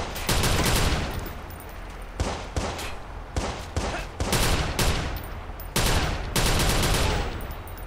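Gunfire in the video game Watch Dogs comes as loud, close bursts of rapid shots separated by short pauses, with no talking.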